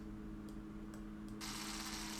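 Upgraded power screwdriver in Deconstruction Simulator, a harsh, fast high-pitched whir that switches on abruptly partway through and runs steadily to the end over a low electrical hum, preceded by a few brief faint clicks.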